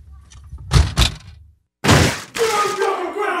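A car door is shut close by with a couple of heavy, dull thuds, then after a moment of silence a loud, noisy burst of sound breaks in.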